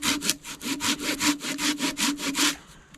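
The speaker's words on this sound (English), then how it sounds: "all we have to do is take a saw" A hand saw cuts into wood with a quick, even back-and-forth rasp of about a dozen close, loud strokes, then stops.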